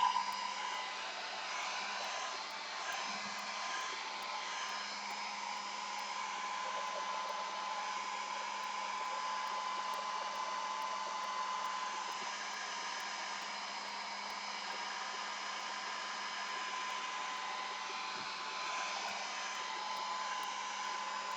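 A hair dryer runs continuously in a small art studio, a steady even whoosh with a low hum, holding at a constant moderate level for the whole stretch with no voices over it.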